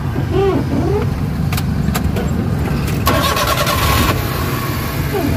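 A Suzuki K6A engine, treated for oil consumption, cranks with a few rapid whirring turns and catches, then settles into a loud, steady idle close by.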